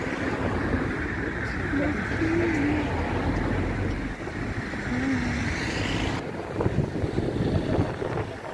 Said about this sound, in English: Ooh, a lot of seagull.